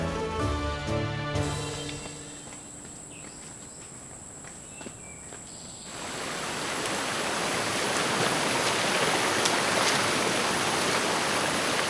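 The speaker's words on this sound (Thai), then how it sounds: "ได้ยินเสียงน้ำตกแล้ว" A waterfall in a mountain valley at Khao Tin Kai, Nakhon Nayok, sounds as a broad, steady rush of water that swells and grows louder partway through, with faint insect chirps and a few footsteps before it.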